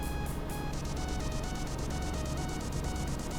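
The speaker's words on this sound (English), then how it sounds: "That sound is when we're driving on the line," A truck in Euro Truck Simulator 2, on the Tripoli map mod, rolls across the median strip line, giving a steady buzzing rumble with rapid, regular rhythmic pulses over a constant engine drone.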